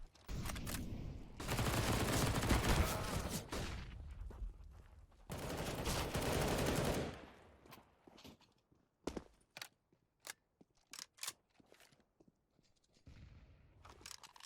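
Gunfire in Counter-Strike: Global Offensive during a competitive match, two long dense bursts of automatic fire followed by scattered single shots and footsteps, fairly close with no talk.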